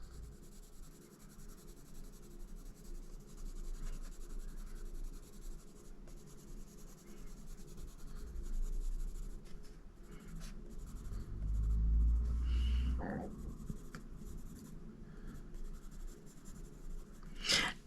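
Soft, steady scratching of a coloring pencil on paper, faint and continuous with light rubbing strokes, occasional small taps and a brief louder rustle near the end.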